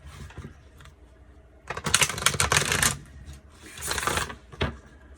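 A tarot deck printed on playing-card cardstock being riffle-shuffled, two bursts of rapid fluttering card slaps close to the listener, separated by a quiet pause.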